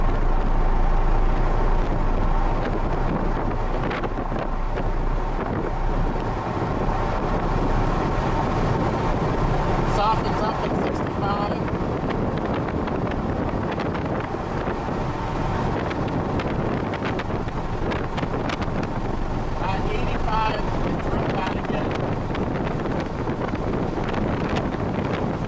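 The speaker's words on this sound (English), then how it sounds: "no additional wind noise with the windows closed" Steady, broadband road and wind rush fills the cabin of a Toyota GR Supra cruising at 50 mph with the windows closed, continuous and even throughout with a low rumble underneath.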